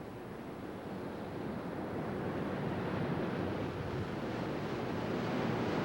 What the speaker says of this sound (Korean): 여기서부터 초입에서부터 시작되는 폭포 이것이 한 1000개도 넘으니까